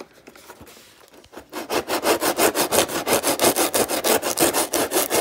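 Coarse tool stripping material from a Freewing Zeus RC jet airframe during a turbine conversion: fast, steady back-and-forth rasping strokes, loud and close, starting after a quiet second and running on without talk.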